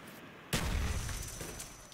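Grenade explosion in Call of Duty: Black Ops, a sudden boom after half a second of near quiet that rumbles and slowly fades, moderately loud.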